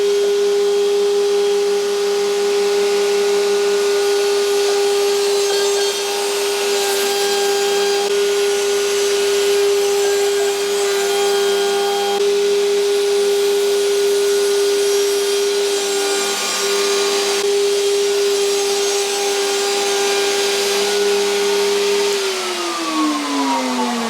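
A router table runs loud and steady while cutting a groove in wood, a constant high whine with a grinding edge that winds down near the end, with no speech.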